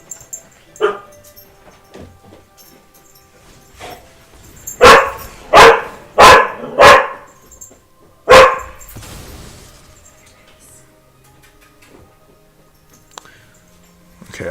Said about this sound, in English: Oh my god, my dogs are just absolutely crazy.